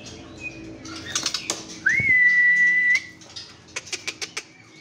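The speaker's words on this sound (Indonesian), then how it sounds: "Kita spill burung dari Pangandaran bos." A trotol songbird from Pangandaran sings close and loud: scattered sharp chirps, then one long rising whistle held for about a second, followed by a run of quick bright notes.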